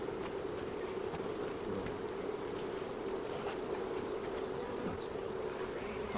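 A double honeybee swarm buzzing around a hive, a dense, steady hum of many bees close by, with occasional individual bees zipping past the microphone and no talk.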